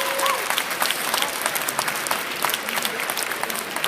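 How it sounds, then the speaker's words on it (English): A crowd applauds athletes at a sports event with dense, sustained clapping at steady loudness over several seconds and a brief voice early on. "So if I can have a round of applause again for all the athletes"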